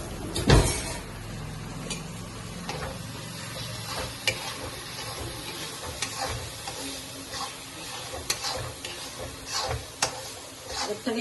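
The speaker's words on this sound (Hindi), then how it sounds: "मम्मी ने मावा पकाने का काम दिया था, तो मैं यहाँ पे साइड में स्लैब में बैठ के ये घुमा रही थी" Mawa (khoya) being stirred in a pan as it cooks toward brown: soft continuous frying hiss with irregular scraping strokes and occasional sharper clacks of the spoon against the pan, fairly quiet, no talking.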